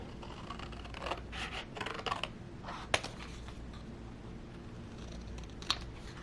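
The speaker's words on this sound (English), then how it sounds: "These are easy to cut. Just a couple of straight lines and a little nick in the middle." Scissors snip through printable paper gift tags in a few quiet, scattered crisp cuts, with two sharper clicks standing out against a low steady background hum.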